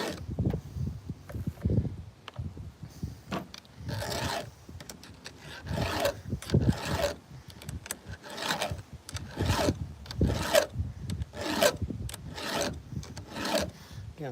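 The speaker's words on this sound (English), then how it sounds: "Again, filing from the outside in." Hand file rasping along a blade edge, a series of rhythmic scraping strokes, close and moderately loud, separated by brief pauses.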